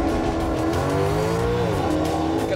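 A grand tourer, a Mercedes, Audi or Maserati, accelerates hard in a road race, its engine note loud and close and climbing steadily, dipping briefly at a gear change before rising again.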